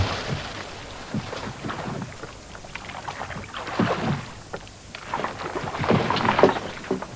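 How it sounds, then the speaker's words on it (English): An experienced crew rows a Viking ship on trial, oars dipping and splashing in an uneven rhythm over steady wind and water, near and moderately loud with no talk. "the ship performed very well when they rowed it"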